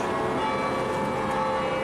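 The bells of St Clement Danes church ring in a sustained, resonant wash of overlapping tones that hold steady throughout.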